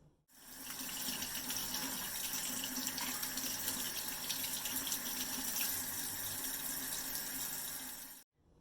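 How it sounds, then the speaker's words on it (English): Apples and pears rinsed under a running kitchen tap, a steady, close water stream splashing into the sink for about eight seconds, then shut off. "since those are grown outside, we need to wash them too before we can eat"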